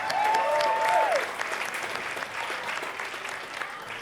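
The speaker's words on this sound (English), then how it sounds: "Give him a clap." Warm applause from an audience at a live comedy or music event, many hands clapping steadily, with a wavering electronic tone sounding over the first second before the clapping carries on alone and slowly thins.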